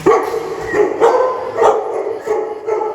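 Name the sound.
dogs barking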